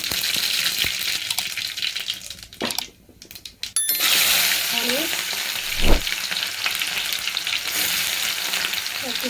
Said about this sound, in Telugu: ఆవాలు జీలకర్ర యాడ్ చేసుకున్నా.